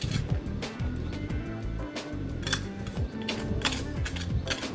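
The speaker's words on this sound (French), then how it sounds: "avec une brosse métallique, je gratte les joints" Wire brush scraping hardening mortar joints between stones on a gate wall, close repeated rough scratching strokes in a steady irregular rhythm.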